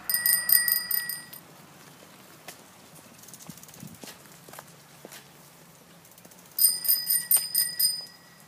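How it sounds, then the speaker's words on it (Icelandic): A bicycle bell rings in a quick rapid trill, falls silent for several seconds amid faint footsteps and ticks, then rings again in another burst. "Það sem mikilvægt að hafa á hjólinu góð bjalla."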